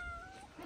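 A cat whose paw has just been stepped on lets out a short, faint meow, heard alone and close by.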